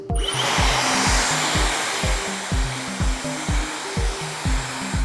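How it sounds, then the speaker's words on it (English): A hair dryer blowing hair, a loud steady whooshing hum running throughout, with a regular rhythmic pulsing as the airflow is moved across the hair, no talking. "Step 2, you're gonna blow dry the hair in the direction that you want."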